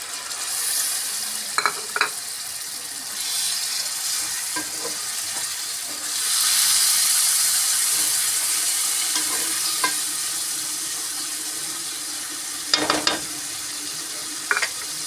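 Chopped tomatoes sizzle steadily in hot oil in a pan for mutton curry, with a spoon occasionally scraping and clinking as they are stirred, the frying hiss swelling briefly midway.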